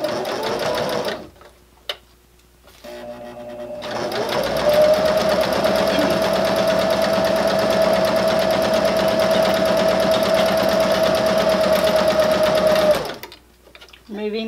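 A sewing machine stitching fabric for a small wristlet keychain hums loudly and steadily for about nine seconds close by, with brief talking and handling noises before and after the run.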